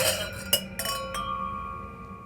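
Glasses of alcohol-free sparkling wine clink together in a toast, a few bright chimes close by in quick succession, then a single ringing tone that fades away slowly.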